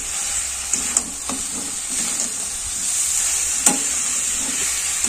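Mutton frying in a kadai with ginger, garlic and green chili paste, a continuous hiss of sizzling oil broken by occasional sharp clinks and scrapes of stirring.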